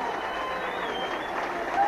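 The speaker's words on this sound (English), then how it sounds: "getting a great round of applause from the crowd" Crowd applause at a 1985 rugby league match between Warrington and Barrow, a steady broadband wash of clapping from the stands that holds evenly throughout, with a commentator talking over it.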